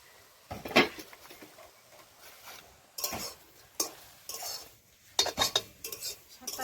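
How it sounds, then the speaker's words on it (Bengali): A metal lid comes off a cooking pot of steaming greens in a home kitchen, giving a few sharp clinks and scrapes separated by quiet gaps, close and fairly soft, with no talk. "এখন ঢাকনাটা তুলে নেব।"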